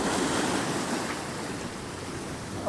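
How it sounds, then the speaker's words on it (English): Massive stormy swells roll in and crash on the shore at Hopton-on-Sea near Great Yarmouth, a continuous loud roar of surf mixed with wind buffeting the microphone. "Some of them swells that are coming in are massive."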